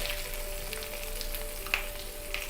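Pieces of fish fry in oil in a pan with a steady, close sizzle, a continuous crackling hiss broken by a couple of sharper pops, and a faint electrical hum underneath, with no voices.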